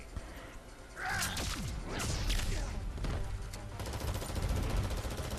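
Gunfire and heavy combat impacts in the fighting video game Mortal Kombat X, a dense burst of rapid shots, whacks and crashes filling several seconds at loud game volume.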